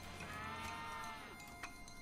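A hell calf in a video game lets out a long, low, strained moo over game background noise, a single drawn-out bellow heard faintly but clearly.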